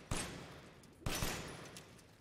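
Two loud, sharp bursts of gunfire in the video game Resident Evil Village, about a second apart, each fading into a ringing tail with no talking.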